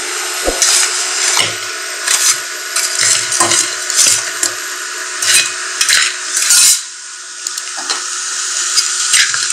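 Jaggery being melted in a wok on an induction cooker, heard as a loud, bright hiss with repeated scraping and clinking strokes of a utensil against the pan and no talking.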